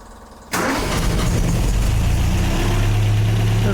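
An MGA engine cranks and catches at half a second, then settles into a loud, steady close-up idle.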